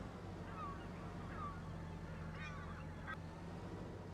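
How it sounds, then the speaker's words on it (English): Seagulls in Farming Simulator 25 trail behind a plough, giving a few faint, distant, scattered cries over a steady low tractor drone. "Now we've got those pesky seagulls."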